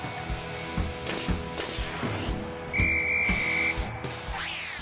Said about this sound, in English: There's no mistaking that whistle.